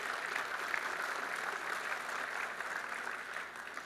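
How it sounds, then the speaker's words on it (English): An audience at a tech keynote on open source breaks into steady applause, a dense wash of clapping from a large room that stays even and moderately loud, easing off slightly near the end. "Yes, please clap."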